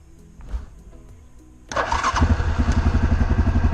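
A Yamaha Grizzly 700 FI EPS Special Edition quad starts up. After a brief crank, the engine catches abruptly and settles into a steady, close, throbbing idle.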